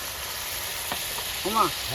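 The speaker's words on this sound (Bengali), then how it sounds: "ক্যাপসিকাম তো দারুণ ভাজা হয়েছে তো" Capsicum fries in a thick spiced egg curry masala, a continuous sizzle with a brief scrape, and a voice speaks briefly near the end.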